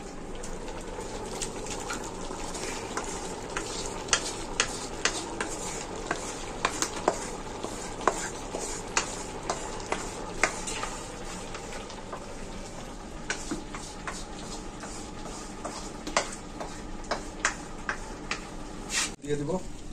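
Meat added to a biryani pot on a clay stove and stirred, with steady cooking hiss and repeated spoon clinks and scrapes against the pot, while a person talks over it.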